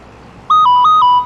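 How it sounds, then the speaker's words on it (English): A mobile phone ringtone sounds loudly and close, a quick four-note electronic trill in alternating high and slightly lower tones, with no talking. "Sorry, that's my phone going off."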